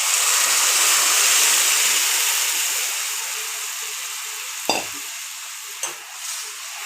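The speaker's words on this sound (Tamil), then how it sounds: "இப்போ நம்ம அரைச்சி வச்சதை ஊற்றிக்கலாம்." Ground spice paste hits a hot pan with a loud, steady sizzle that slowly fades, then two brief clanks of a utensil against the pan near the end.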